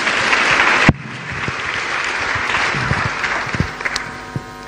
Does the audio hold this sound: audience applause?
yes